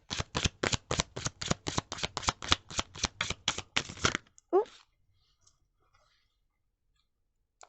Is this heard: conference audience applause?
no